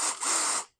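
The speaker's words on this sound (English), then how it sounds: "So we're going to drill through there, and this is for the cylinder part." A power drill bores through the metal frame of an adjustable gate for wooden gates, making the hole for the lock cylinder: one short, loud, steady high-pitched whine that cuts off abruptly after about two-thirds of a second.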